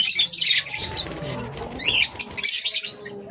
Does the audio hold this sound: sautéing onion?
no